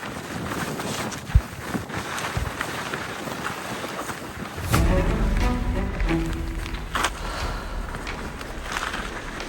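Icy wind on the Arctic Circle Trail buffets the microphone in rough, roaring gusts, with a stronger blast midway, loud and close throughout.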